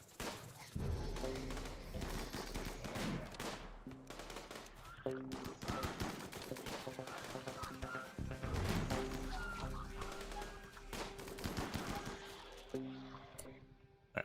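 Dense bursts of gunfire in the colony-management game RimWorld, fast machine-gun rattles and thumps running almost continuously at steady loudness, with a voice talking over parts of it.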